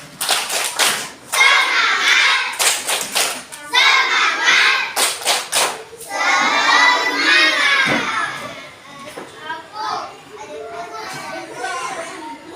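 A class of schoolchildren doing a rhythmic clapping chant at the end of a lesson, bursts of sharp unison claps alternating with loud shouted chanting voices, energetic and close.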